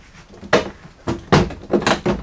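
Plastic trim panel on a 1997–2001 Jeep Cherokee XJ rear hatch being pressed home, giving four or five sharp snapping clicks spaced about half a second apart, close and fairly loud.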